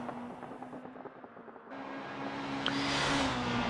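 A broken Super Formula race car engine in a racing video game at the Belgium Grand Prix gives a thin, steady electric-sounding whine over a wash of road and wind noise that grows louder toward the end.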